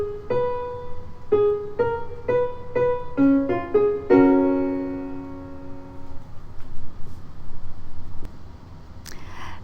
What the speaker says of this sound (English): play just the right hand melody with the timing and chords